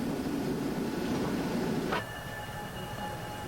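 Adirondack Centennial Railroad train rolling at night through a rain-soaked forest, a steady low rumble and hiss that drops abruptly partway through, leaving a quieter hum with faint tonal squeal.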